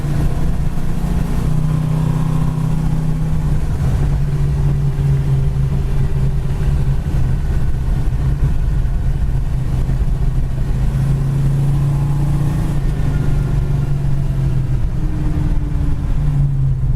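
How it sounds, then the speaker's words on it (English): A yellow 1969 Plymouth Road Runner cruises down the road, its engine giving a continuous mid-pitched rumble with gentle rises and dips in revs, steady and close throughout. "As long as you're holding onto the steering wheel, it goes nice and straight down the road."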